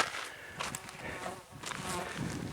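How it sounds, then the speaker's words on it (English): A bee buzzes close by outdoors at a desert petroglyph site in Tularosa, New Mexico, a steady, faint droning hum that swells and fades as it hovers near, with a light breeze and no talking. "get off of me, bee."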